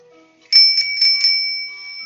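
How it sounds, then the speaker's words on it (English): A bicycle bell rings in several quick brisk chimes, then its bright metallic tone lingers and slowly fades, close and clear. "That sound was the sound of a bicycle coming up behind you or toward you"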